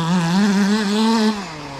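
A 1/6 scale petrol-powered RC Marder engine, still set up for break-in, holds a steady buzzing drone up close, then eases to a slightly lower pitch near the end.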